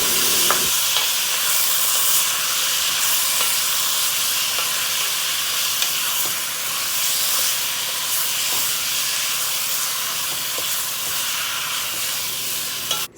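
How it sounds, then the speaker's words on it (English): Jamaican curry chicken sizzling in a hot pot as it is stirred, a steady loud hiss and fry with faint scraping running continuously throughout. "just continue stirring that curry, allowing it to cook and burn"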